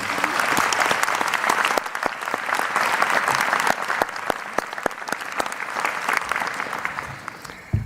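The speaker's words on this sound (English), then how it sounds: "please join me in a round of applause for our Superintendent" An audience at a college commencement ceremony applauds, a dense, steady wash of clapping from a large crowd that holds for several seconds before thinning slightly near the end.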